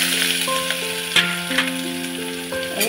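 Onion sizzles steadily as it fries in hot oil with cumin inside a pressure cooker, a close hiss carrying on under tonal background music.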